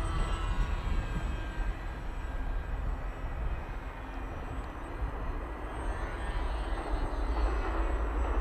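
The electric motor of a Ranger G2 RC plane running on a 4S battery gives off a steady, close whine and rushing propeller noise that holds fairly constant for several seconds.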